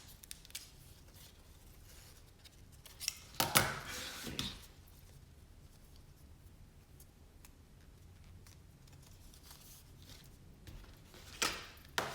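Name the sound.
scissors cutting a folded paper lining strip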